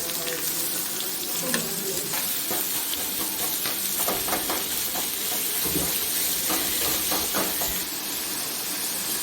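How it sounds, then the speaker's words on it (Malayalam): Chopped onion and curry leaves hit hot oil in a pan for mackerel pollichathu, giving a loud, dense, continuous sizzle and hiss with small stirring clicks scattered throughout. "കറിവേപ്പില ചേർക്കാം അരിഞ്ഞു വെച്ചിരിക്കുന്ന സവാള ചേർക്കാം"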